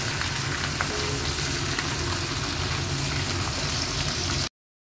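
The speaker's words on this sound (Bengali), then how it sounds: "এবার ক্যাপসিকামটা পেঁয়াজের সঙ্গে ভালো করে ভাজা হয়" Capsicum fries with onion in a pan over a low-to-medium flame while making dry chilli chicken, a steady close sizzle with a dense crackling hiss that runs unbroken before cutting off abruptly near the end.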